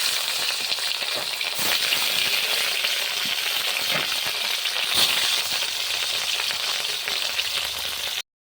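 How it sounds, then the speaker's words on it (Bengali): Rohu fish, rubbed with salt and turmeric, frying in hot oil in a wok, giving a steady close crackling sizzle with brief louder pops throughout. "এখন মাছগুলো ভেজে নেব। কড়াইতে তেল গরম করে নিয়েছি।"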